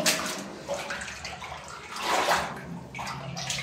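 Water runs and splashes loudly nearby in a continuous gushing stream, swelling and easing in waves with no voices over it.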